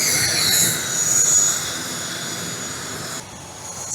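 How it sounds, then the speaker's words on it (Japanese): A steady jet engine roar with a high whine, loud and continuous as an airplane runs nearby at an airport in Papua New Guinea. "なんとか飛行機が来ました。"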